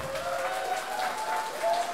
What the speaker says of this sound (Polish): Wielka brawa dla naszej wspaniałej pary młodej.